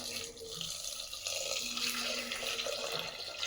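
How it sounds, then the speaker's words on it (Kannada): Water splashes steadily from a glass into a cooking pot on the stove, a continuous close trickling pour lasting a few seconds with no talk. "ಇದಕ್ಕೊಂದು ಗ್ಲಾಸಷ್ಟು ನೀರು ಹಾಕ್ಕೊತಿದ್ದೀನಿ"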